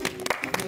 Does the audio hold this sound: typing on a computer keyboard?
no